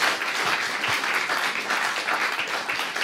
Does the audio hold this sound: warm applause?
yes